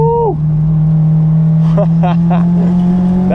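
A car speeds along a winding dirt road, its engine a steady, close droning hum from start to finish, with short excited vocal whoops rising over it partway through.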